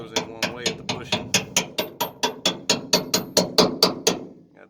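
A hammer taps a shackle bolt into the leaf spring of a 1995 Chevy, sounding as about seventeen sharp metallic strikes in a quick, even rhythm, close and loud.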